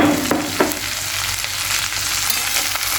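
Sliced okra stir-fries in oil with salt and turmeric, a dense continuous sizzle close up with a few spatula scrapes against the pan and no voices.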